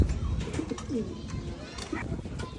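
Free-flying pigeons cooing close by, soft low murmuring coos repeating in short phrases over a steady outdoor background.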